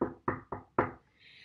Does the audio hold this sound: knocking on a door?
yes